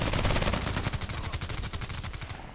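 Rapid gunfire from a customized KelTec RFB Carbine in the shooter game Contract Wars, a loud, dense string of shots in quick rhythm that holds steady for a couple of seconds before easing off.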